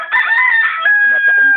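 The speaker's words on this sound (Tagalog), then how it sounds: "Ito nga pala Sir, yung manok ni Aldrin" A Talisayin gamecock being conditioned on a farm gives one loud, close, drawn-out crow that lasts well over a second and stands alone, with no talking.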